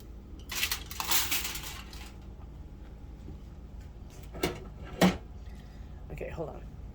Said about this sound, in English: Let me open this up and stir it up a little bit.